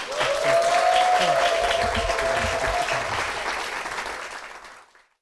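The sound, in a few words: applause welcoming a church deacon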